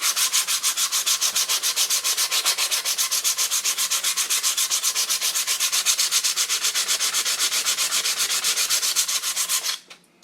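Fine 180-grit sandpaper rubbed by hand over a wooden ship model hull, in quick, steady back-and-forth strokes that run evenly for about ten seconds before stopping abruptly.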